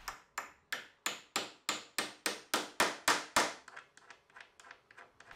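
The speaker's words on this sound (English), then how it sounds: "these pins just get hammered in place" Pins are hammered into the fittings of a bi-fold door in a run of about fifteen sharp metallic hammer strikes, steady at first and then lighter and quicker toward the end, close and alone.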